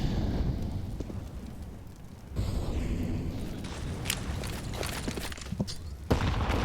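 Counter-Strike match on the map Vertigo, with distant rattling gunfire and grenade blasts crackling through a continuous noisy wash, sharper pops and bursts scattered across the stretch.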